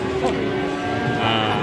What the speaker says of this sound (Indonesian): Udah dapat sapi jenis si mental teman-teman.